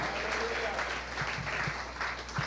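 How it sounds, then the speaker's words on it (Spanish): Church congregation applauding during a sermon, a continuous wash of clapping with a few louder thuds, while a voice talks over it. "Denles aplauso al que vive."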